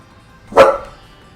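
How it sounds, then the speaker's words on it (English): A dog named Bongo gives a single sharp bark, loud and close, in an otherwise quiet room. "ignore my dog barking"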